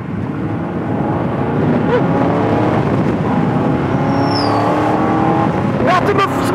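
A 1972 Corvette Stingray's engine pulls steadily and rises in pitch as it accelerates, loud and close from inside, with a brief high squeal and talk faintly underneath.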